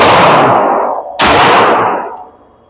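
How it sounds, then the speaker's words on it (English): Two loud, close pistol shots from a Girsan Witness 2311 Match fired in a quick double tap, each a sharp crack followed by a long ringing echo that fades away. "we're gonna double tap through this other mag"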